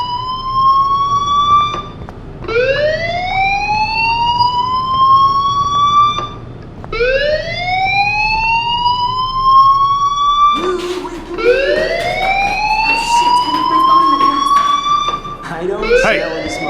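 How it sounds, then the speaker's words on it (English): A fire alarm wails in long rising sweeps that repeat every few seconds, loud and continuous throughout, with a harsher overlapping tone joining in partway through. "Hey, do you hear that fire alarm?"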